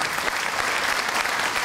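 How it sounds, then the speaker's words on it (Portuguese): A concert crowd at a Portuguese community show claps loudly for the people on stage, a thick, continuous roar of applause filling the whole short stretch. "uma grande salva de palmas para as pessoas que estão aqui no palco"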